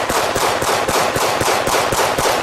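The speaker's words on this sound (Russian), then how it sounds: "заменяет одиночный выстрел из своего пестика очередью из полуавтоматического" A loud, continuous burst of automatic gunfire, rapid shots in an even rhythm filling the whole stretch with dense, harsh noise.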